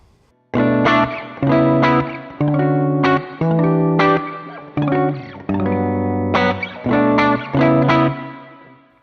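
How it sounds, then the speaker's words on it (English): Electric guitar played through a Strymon BigSky MX reverb pedal, a series of strummed chords each ringing out loud with a lush, shimmering reverb tail, about eight evenly spaced hits with no talking. "listen to the Big Sky."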